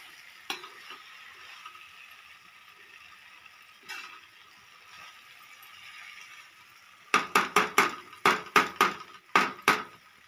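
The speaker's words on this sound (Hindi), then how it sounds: "इसे हम अच्छे से मिक्स कर लेंगे सबको" Brinjal curry with turmeric cooks in a pan with a low, steady sizzle, then a quick run of loud spoon-scraping stirring strokes close by near the end.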